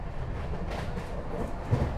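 The Amrit Bharat Express, a new train running at speed past a railway station, heard as a steady, loud low rumble and roar with faint rhythmic clatter throughout.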